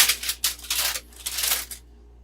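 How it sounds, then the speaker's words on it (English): Loud, close rustling and crinkling of paper in several bursts for about two seconds, then it stops abruptly. "That paper's really loud."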